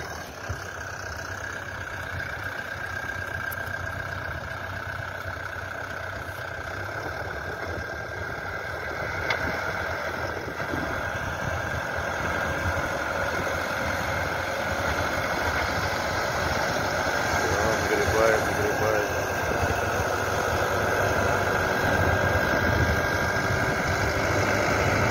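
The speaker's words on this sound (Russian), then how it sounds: "Отличный трактор." A backhoe loader tractor idles on a snowy racetrack during snow clearing, its engine giving a steady, continuous mid-low rumble with a faint rise in level after about ten seconds, heard alone without talk.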